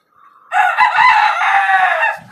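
A rooster on a small rooftop farm of local desi and tiger chickens gives a single close, loud crow lasting about two seconds, with nothing else around it.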